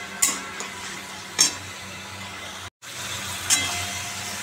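Beans drop into a hot frying pan with oil one at a time. A steady sizzle is broken by a few sharp clicks and taps, and there is a brief silence partway through.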